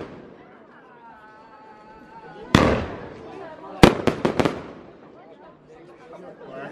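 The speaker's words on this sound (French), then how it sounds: "Le feu d'artifice c'était très joli pour notre village." Village fireworks burst outdoors: one sharp bang, then a quick cluster of four or five cracking explosions, with distant crowd chatter underneath.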